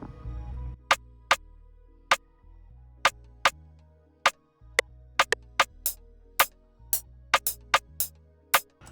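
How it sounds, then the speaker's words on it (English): A rim shot from the 7th Beats drum kit plays in a simple bouncing pattern, sharp bright clicks repeating over a low bass line and backing beat, loud and close with no talking. "the first thing that we got is this snare, or this rim, from 7th Beats drum kit, and it sounds like this"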